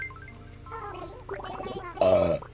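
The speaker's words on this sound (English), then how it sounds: "Coffee burp." A long, gurgling burp after drinking coffee, rising in a drawn-out rumble that ends in a loud, rough final push, heard close and alone.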